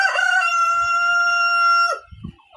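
An adult Bahama rooster gives one loud, close crow, a long sustained call lasting nearly two seconds, followed by a few low clucks.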